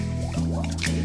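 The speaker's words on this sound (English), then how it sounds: "By tilting the glass, you let the air escape." Air escapes in glugging bubbles as a glass is tilted underwater, a short sequence of close, wet gurgles and drips heard on their own.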